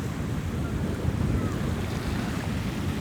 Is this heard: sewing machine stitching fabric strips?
no